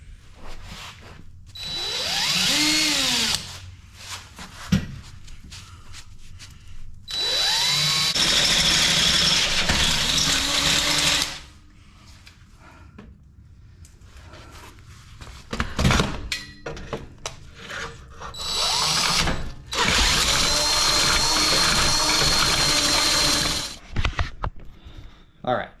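A power drill whirs loudly in several long bursts, punching holes while working on a Geo Tracker cherry picker build, with the motor pitch sagging and rising under load and quiet pauses with clunks between the runs.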